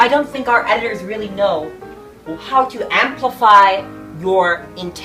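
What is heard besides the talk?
None of the usual background noises is heard.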